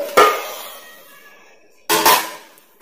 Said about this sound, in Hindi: इसके लिए सबसे पहले इसका ढक्कन हटाएंगे